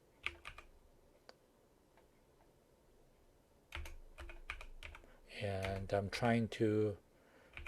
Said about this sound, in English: So when you type, I'm typing here, you will not show the cursor moving.